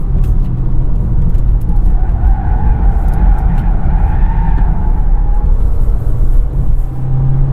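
A 2021 Volkswagen Jetta with an 8-speed automatic accelerating at full throttle, its engine droning steadily from inside the cabin with rising pitch under constant road and wind noise.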